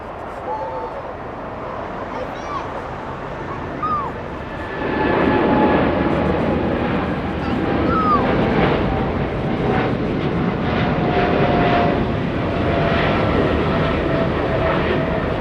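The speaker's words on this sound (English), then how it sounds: "Big 777, yeah, I hear GE90s as well" Boeing 777 freighter with GE90 engines at Los Angeles airport, a jet roar that swells after a few seconds into a loud sustained rumble and rush, with faint engine whines and birds chirping early.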